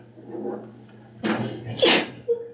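A single loud sneeze bursts out during a village board meeting, sharp and close, after a stretch of quiet room tone and murmured speech.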